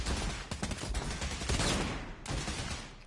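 Rapid gunfire bursts in the virtual reality shooter Bravo Team VR, a dense, loud stream of shots crackling close by for a few seconds with no voices over it.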